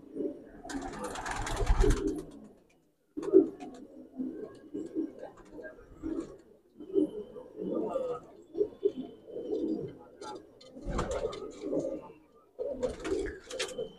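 Madrasi pigeons coo through a loft in repeated low bursts while a person talks nearby and louder broadband rustling or flapping noises come and go.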